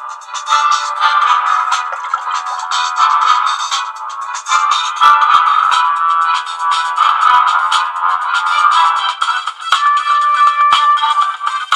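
A loud, bright ringtone melody blares continuously from the small speaker of a Mito A300 phone, thin and trebly with no bass, playing alone without talk.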